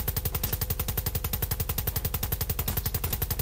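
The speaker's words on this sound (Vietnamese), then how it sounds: "Ok, mình sẽ sử dụng khẩu minigun khác nhá." A minigun fires a rapid, unbroken string of shots in a Siren Head video game, a loud mechanical rattle with no pauses.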